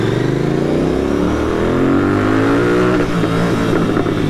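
A loud Royal Enfield GT 650 motorcycle engine fitted with a BMC performance air filter revs up, its deep throaty pitch climbing steadily and holding a rough, bassy growl throughout, with no talking.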